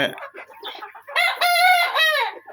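Deshi chickens at a Bangladeshi poultry farm: close clucks and short calls lead into a loud, drawn-out rooster crow, with no talking.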